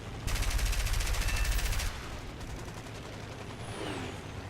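A sustained burst of machine gun fire in the War Thunder video game, a loud dense rattle lasting about a second and a half, then fading into low rumbling battle noise with a faint whistle.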